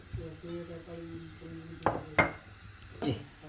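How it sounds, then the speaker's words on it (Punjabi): A rolling pin works roti dough on a board in a home kitchen, with a few sharp wooden knocks and scrapes cutting through a steady low hum and faint tonal background sound. "ਇਹ ਅਸੀਂ ਰੋਟੀ ਵੇਲ ਰਿਆ ਨਾ ਕਿ ਪਰਾਂਠੀ"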